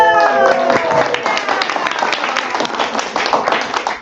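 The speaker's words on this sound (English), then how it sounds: "Clap it up!" An audience claps at the opening of a theatre showcase at an Asian American arts festival, a busy patter of many hands after a brief tonal sound at the start, fairly loud throughout.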